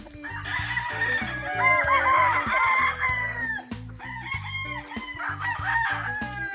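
Fighting stags on a gamefowl farm crow and cluck close by, several overlapping calls and crows repeating through the whole stretch over a steady rhythmic mechanical thumping in the background.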